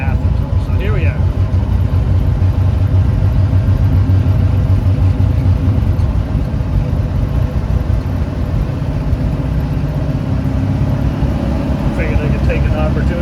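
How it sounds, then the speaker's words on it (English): A steady, rumbling engine drones continuously from inside a moving 1956 Chevrolet 6400 truck, loud and low, with a voice speaking over it at times. "as long as the engine's running, we're turning"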